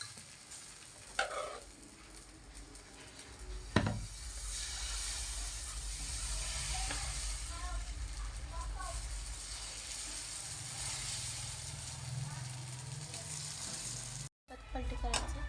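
Dosa batter frying on a hot griddle, a steady broadband sizzle running throughout with a few clicks and scrapes of a brush or spatula, fairly close, with a voice speaking briefly over it.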